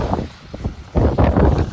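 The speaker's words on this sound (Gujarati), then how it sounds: "પવન બી ફૂલ છે અને બરફ પડે છે એટલે બરફ ચારે બાજુ ઉડે છે" Strong wind gusts during a snowstorm in Canada roar and buffet the microphone in uneven surges, loud and close, with no talking.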